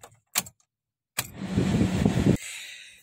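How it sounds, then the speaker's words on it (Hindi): A 2023 Maruti Suzuki S-Presso VXI is started with the key: a few key clicks, a brief pause, then the engine cranks, catches and settles into a steady idle with a lighter hum, heard close inside the car. "चलिए अब इससे करते हैं हम गाड़ी को स्टार्ट"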